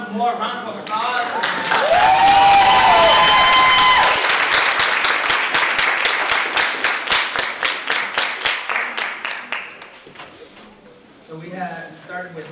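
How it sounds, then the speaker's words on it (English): Audience at a poetry slam breaks into loud, sustained applause with cheers and whoops, the dense clapping thinning into a patter of individual claps before fading out near the end. "Please give one more round of applause."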